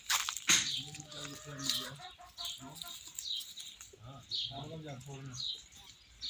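Chickens cluck and chatter nearby in short bursts, with people talking over them throughout.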